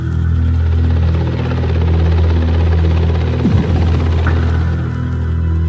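Loud, close military helicopter rotor drone with a constant low thudding hum throughout, a brief swooping tone near the end, no voices.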